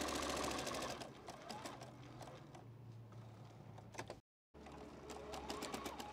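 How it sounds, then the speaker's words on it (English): Sewing machine stitching a quilt block with a few back stitches, loud steady mechanical whirring that pauses briefly partway, then resumes, with no talking. "do a couple of back stitches, just so that it sort of secures it."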